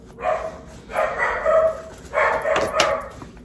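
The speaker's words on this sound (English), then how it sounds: "Sorry, my dog's barking." Repeated loud barking from a nearby dog, coming in short clustered bursts with brief gaps between them.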